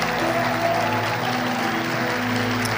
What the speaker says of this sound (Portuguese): eu queria que você desse um aplauso muito grande ao Senhor.